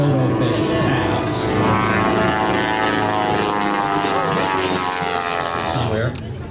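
Vintage propeller airplane, an old hangar-find restoration held together with baling wire and duct tape, making a low photo-finish pass at the Kansas City airshow; a steady, loud engine drone fills the whole stretch under crowd noise and talk.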